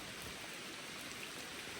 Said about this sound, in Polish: Deszcz pada w lesie.